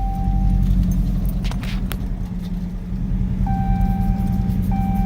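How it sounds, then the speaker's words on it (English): A car fitted with a Flowmaster exhaust idles nearby with a loud, deep, steady rumble, while brief clicks and jingles sound over it and a thin tone comes and goes. "I love Flowmaster exhaust."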